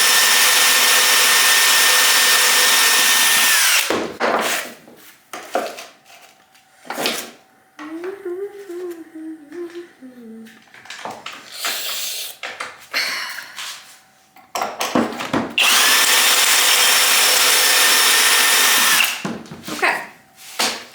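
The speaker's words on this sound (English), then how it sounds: "Use this little Craig pocket hole jig thing. It's really hard when you just have one, but it's doable. Pocket holes on all of them." A power drill bores pocket holes into plywood with a Kreg pocket hole jig in loud bursts at the start, middle and end, separated by quieter clattering handling sounds.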